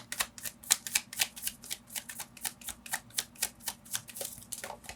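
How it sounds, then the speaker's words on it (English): Close, quiet riffle of tarot cards being shuffled in quick repeated bursts, a steady rhythmic flutter of snapping edges with no talking. "I'm gonna shuffle one more time."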